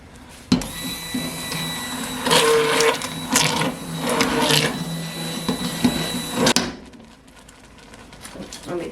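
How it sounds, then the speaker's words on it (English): An immersion blender whirs through cranberry sauce in a home kitchen, running in several loud, uneven bursts for about six seconds before cutting off into quiet room noise. "See if I can immersion blend it one more time."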